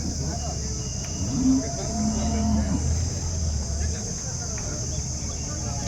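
A cow moos a couple of times in short low calls amid a busy crowd at an outdoor cattle market in Chintamani, Karnataka, with people talking nearby and a constant insect-like hiss.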